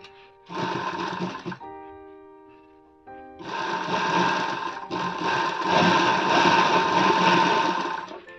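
A sewing machine runs close and loud in two stitching bursts with a short pause between them, the second burst long and continuous, with no talking.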